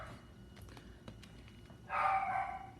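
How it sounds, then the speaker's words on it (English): A dog named Norman barks somewhere in the background, a few faint, distant yaps early on, then a louder, longer stretch of barking near the end, all set against a steady low indoor hum. "barking in the background"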